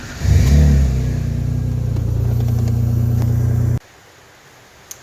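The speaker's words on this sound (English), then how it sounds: "So there we go, running and driving GTV." An Alfa Romeo GTV engine runs for the first time in 11 years, a loud, close, steady idle rumble with a slight rev at the start that holds for several seconds before shutting off into near silence.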